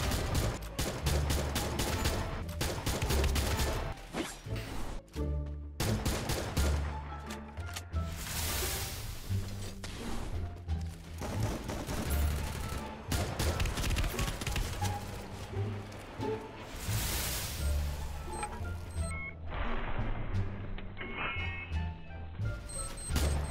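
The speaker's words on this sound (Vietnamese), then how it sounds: "Tôi đang bắn với Rook Fai Fai nha" Dense, continuous gunfire from an online shooter game on a Thai server rattles almost without pause, with bursts of automatic fire and explosions layered into loud game sound and music.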